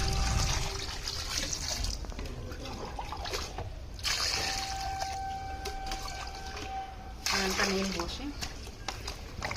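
Freshly harvested turmeric roots are washed in water, with continuous splashing and trickling close by and a voice speaking at times over it.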